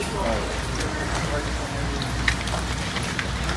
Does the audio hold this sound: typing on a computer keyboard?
no